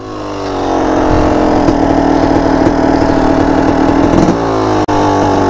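A dirt bike engine runs steadily in second gear after an upshift, a loud, close, continuous buzzing drone with a brief dip near the end.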